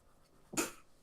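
A single short, sharp sneeze bursting out of near silence, close and brief.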